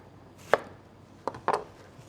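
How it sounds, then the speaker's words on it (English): A knife chops an onion into big chunks for pork adobo, giving about four crisp, close blows on a cutting board, one alone and then a quick cluster, against a quiet room. "I just cut in a big chunk."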